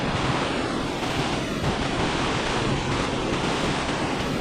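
A roaring waterfall on a trip to Pai in northern Thailand, its steady broadband rush mixed with gusting wind and blowing mist, loud and continuous up close, with a brief exclaiming voice near the start.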